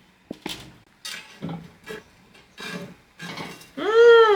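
A flourless pancake is flipped in a pan, giving a few separate scraping and knocking clatters of utensil on pan spaced across several seconds, followed at the end by a higher ringing tone.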